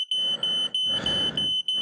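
A shrill electronic smoke alarm in a hotel blares in repeated pulses with a steady high tone, loud and close, with short gaps between bursts and no voices.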